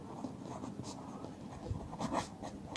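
A marker or chalk scratches across a board as a maths formula is written, producing soft, faint strokes in short bursts with quiet room tone between them.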